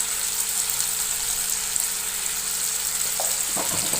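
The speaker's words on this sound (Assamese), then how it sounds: "ভাজিম আধা নিসিজালৈকে। এইখিনি মই ভাজিম।" Chicken masala frying in a pan, with a steady, even sizzle that keeps up throughout and a couple of quick scrapes from stirring close to the end.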